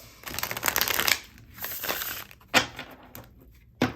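Tarot cards shuffled up close, a long riffling burst followed by a softer one, then two sharp taps as the deck is squared, no speech.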